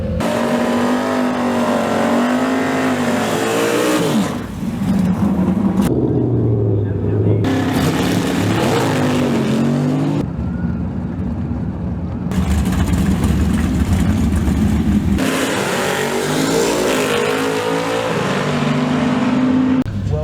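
Race car powered by a 584 cubic inch big block Chevrolet engine, a Jensen Special, roaring loudly with a deep sustained drone that rises and falls in pitch as it revs, with brief drops in between and talk mixed in.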